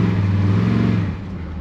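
The engine of a 1966 Chevy Biscayne revs as a loud, close, low rumble, holding steady for about a second and then dropping back toward idle.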